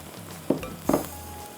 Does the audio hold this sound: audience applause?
no